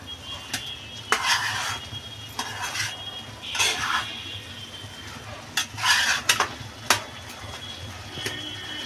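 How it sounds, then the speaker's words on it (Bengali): Spinach frying in a pan during Bengali home cooking, stirred with a utensil in repeated scraping bursts over a steady soft sizzle, close and moderately loud, with no talking. "আর শাক ভাজাটা আমার প্রায় হয়ে আসছে"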